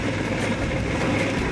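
A motorcycle engine runs on a ride along a route through loose dirt: a loud, continuous drone with wind rush, close up and steady, with no talk.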